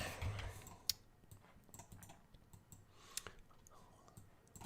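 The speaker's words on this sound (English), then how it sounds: "I'm just typing it." Quiet, irregular clicking of keys as someone types on a computer keyboard, with a couple of sharper key strikes standing out and no talk.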